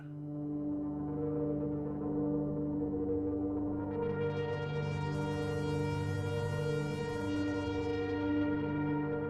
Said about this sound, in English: you can still hear the sample and hold going on the low notes